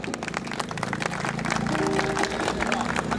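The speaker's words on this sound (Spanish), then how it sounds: "¡El aplauso para ella!" A university audience at a creole music group's performance applauds a singer. Clapping and crowd murmur are steady and moderately loud, with a sustained tone running beneath.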